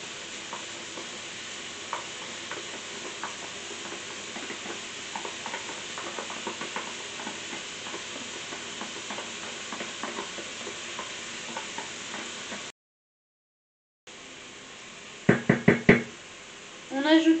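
Onions and garlic sizzle and fry in a pan with a steady close hiss, a spoon knocking and scraping as they are stirred, then a short silence before louder clattering knocks.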